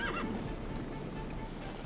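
A horse in Witcher 3: Wild Hunt gives a brief neigh at the start, loud over a noisy game background, then fades away.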